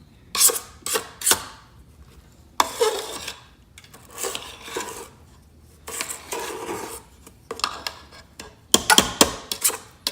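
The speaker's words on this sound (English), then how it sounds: "So you really need to scrape it down." A spatula scraping down thick chocolate devil's food cake batter in a mixing bowl, heard as several close bursts of rasping strokes separated by quiet pauses, with no talk.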